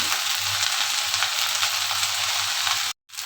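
Okra frying in a pan hisses as a loud, constant, close sizzle with a faint low hum beneath, cut off abruptly near the end by a brief silence before resuming.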